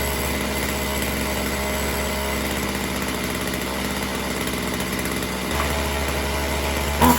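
A chainsaw engine with a laggy carburetor runs roughly after being restarted, a steady buzzing idle with a slight shift in pitch late on, loud and close with no talking.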